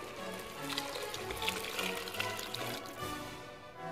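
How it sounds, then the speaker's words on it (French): Water with court-bouillon is poured into a hot pan, a steady trickling splash under hissing and bubbling that stays soft and close throughout. "On ajoute l'eau avec le courbouillon."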